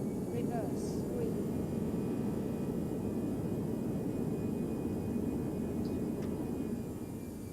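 Simulated ToLiSS A319 jet engines in reverse thrust after landing in X-Plane 11, a loud, steady roaring rush of broadband noise that holds throughout with little change.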